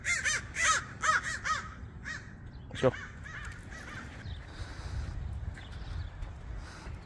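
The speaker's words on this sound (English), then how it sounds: "I heard crows are very smart" Several loud crow caws in quick succession open the scene, then fade into outdoor background noise; a person speaks briefly midway.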